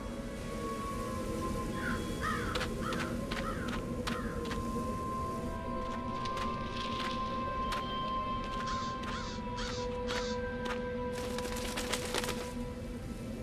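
A crow caws repeatedly in Dreamfall: The Longest Journey, in short harsh calls spaced across a steady humming ambient background.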